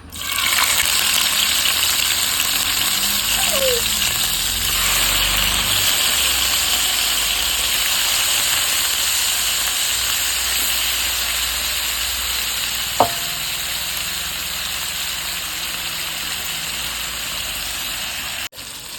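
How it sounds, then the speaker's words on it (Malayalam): Marinated chicken frying in hot oil gives a loud, steady sizzle and crackle that runs unbroken from start to finish, with a brief clink partway through and no talking. "നമ്മുടെ ചിക്കൻ വറുത്തെടുക്കാം."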